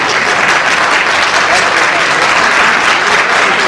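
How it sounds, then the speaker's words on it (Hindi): Loud, continuous applause from a theatre audience at a staged play as a cast member is introduced, a thick even wash of clapping filling the whole stretch. "बहुत ज्यादा तालियां रही है"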